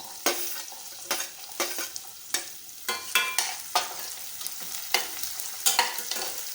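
Onion frying with garlic and peanuts in a pan for Khandeshi khichdi, sizzling steadily while a utensil stirs in repeated sharp scraping strokes, close and clear.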